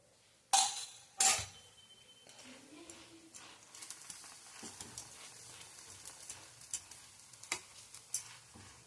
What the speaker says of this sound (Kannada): ಎಣ್ಣೆ ಹಾಕಿ ಬೇಯಿಸ್ಕೊಂಬೋದು